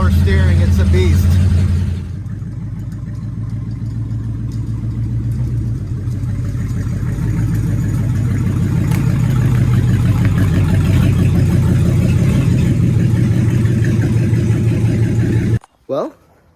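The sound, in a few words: 1959 Edsel Corsair engine while driving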